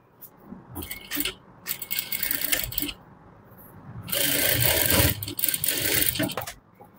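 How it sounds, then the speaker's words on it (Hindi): A sewing machine stitches pant tucks in loud, rapid bursts of mechanical clatter, stopping and starting several times in close-up. "टक्स को हमें स्टिच कर लेना है।"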